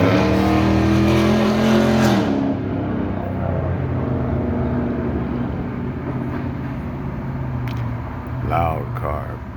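A loud car roars close by with a strong engine drone, then fades under someone talking as the traffic noise continues in the background.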